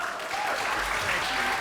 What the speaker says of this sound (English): I invite you to stand and give a warm round of applause to none other than Council Member Will Jawando.